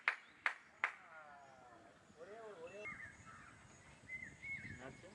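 Crows caw three times in sharp, loud calls near a cricket ground, followed by people talking and distant field noise.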